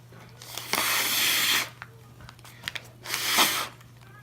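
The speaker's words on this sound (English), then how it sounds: "you're going to blow through it." Two breathy bursts of air blown into a folded paper origami balloon, each lasting about a second with a pause between, close and moderately loud over a steady low hum.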